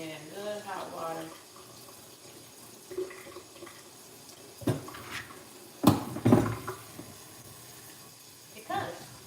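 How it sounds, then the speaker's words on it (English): Hot tap water runs into a kitchen sink as vegetables are washed, a low steady flow broken by clunks and bumps of handling, with someone talking intermittently over it. "So I am washing my veggies"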